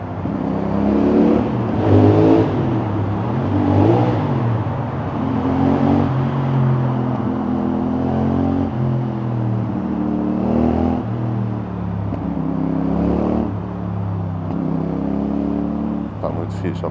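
A CFMOTO 450NK motorcycle rides through a tunnel, its engine droning loudly and rising and falling as the throttle opens and eases, with a voice now and then under the steady echoing roar.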